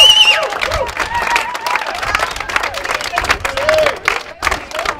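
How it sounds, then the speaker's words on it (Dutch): A studio audience at a Dutch television show claps and cheers warmly for an arriving guest, dense continuous applause with shouts and whistles mixed in, loud and close throughout. "Ik wil een heel warm applaus voor de enige echte Corrie Koop."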